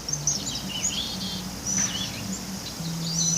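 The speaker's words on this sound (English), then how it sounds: "I come out and I listen to the birds" Birds call and chirp in a garden, light high-pitched tweets scattered through the moment at moderate distance, over a steady low hum of background noise.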